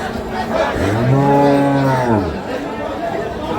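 A single loud, close dairy cow moo at the Kaharol cattle market rises and falls for about two seconds, with faint crowd chatter in the background.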